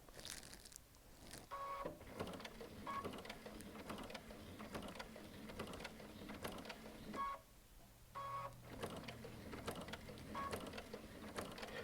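A Baby Lock Altair sewing machine stitches through thick stacked layers of denim, a close, quiet mechanical whir and clatter with repeated ticks and small beeps, steady throughout and without talking.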